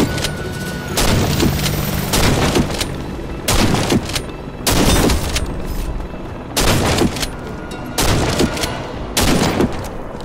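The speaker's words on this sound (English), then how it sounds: "As a medic, you come armed with a shotgun." Shotgun blasts from a medic in Warface ring out in heavy bursts, some single and some doubled, with loud booming reports separated by short quiet gaps.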